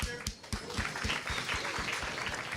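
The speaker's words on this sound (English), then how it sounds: "a round of applause for you guys" Audience applause at a university question-time session with the vice-chancellor, a steady patter of many hands clapping at moderate distance, filling the whole short stretch.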